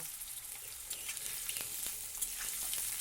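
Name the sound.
frying eggplant pieces in hot oil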